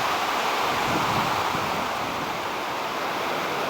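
Rushing rapids on the Salmon River, a steady broadband roar of churning whitewater that fills the whole clip at a constant, close, loud level with no voices.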